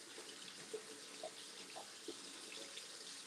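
Tap water runs into a sink in a home bathroom, a faint steady hiss of flowing water with a few small splashy plops scattered through it and no voices.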